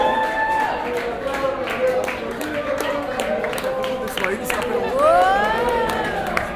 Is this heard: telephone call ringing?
no